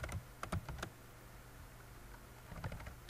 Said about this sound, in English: I'm just typing random stuff here.